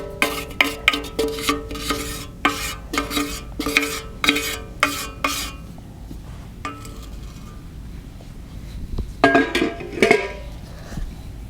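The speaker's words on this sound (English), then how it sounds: "we are going to strain to get out the oil in here" Amla powder hair oil being strained, with a series of rhythmic metallic clinks and scrapes of a utensil against a pot for about five seconds. After a quiet pause, a louder cluster of clatters follows.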